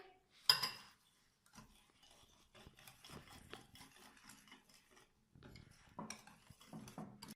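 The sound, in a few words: mixing spices into yogurt in a bowl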